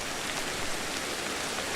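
Rain in the prehistoric survival game Ancestors: The Humankind Odyssey pours in a dense, even hiss, steady and fairly close, with no voices over it.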